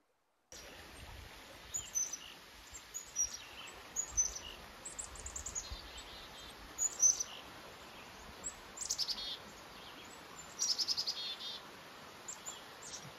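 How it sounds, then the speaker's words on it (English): Small birds, including a chickadee, chirp and call in short bursts over a steady rushing stream, the high notes scattered and fairly close. "Chickadee up there."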